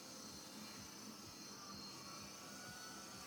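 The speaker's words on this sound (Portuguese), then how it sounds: "Ele só tá com um pouco motor esse avião." A remote-controlled model airplane engine flying at night gives a steady, distant buzzing drone that stays faint and even throughout, with no voices.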